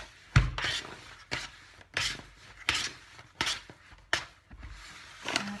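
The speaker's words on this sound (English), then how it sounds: "with the help of the spatula I'm just gonna take it apart." Spatula scraping and pulling apart risen bread dough in a bowl, a series of about seven rhythmic scraping strokes with soft sticky dull knocks, close and fairly quiet.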